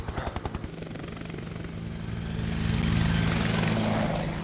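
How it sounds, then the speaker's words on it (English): A Shinra helicopter flies in the video game Final Fantasy VII Remake, its rotor chopping in quick rhythmic pulses, then swelling into a loud, steady droning roar as it draws near. "There's the Shinra chopper."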